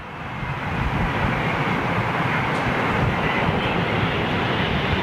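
An airliner departing London Heathrow on a flight to Brussels, a steady, loud, broadband jet roar that holds evenly throughout with no talk over it.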